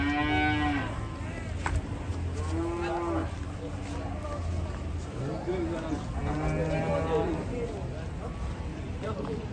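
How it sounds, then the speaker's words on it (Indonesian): A young water buffalo calf lowing several times, close by, with people talking in the background throughout. "Dan ini anak kerbau, guys."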